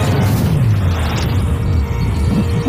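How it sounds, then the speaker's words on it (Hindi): Firecrackers set off in a blast go off as a dense, loud, rumbling boom that rolls on continuously up close, with no speech over it. "पटाखे फूटने वाले हैं"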